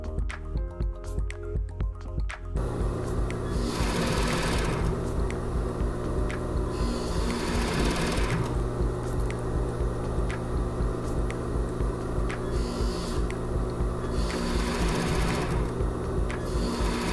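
A sewing machine stitching lace onto a panties waistband, its motor humming in a steady, close, continuous run with rapid needle chatter throughout and slight speed swells, no speech.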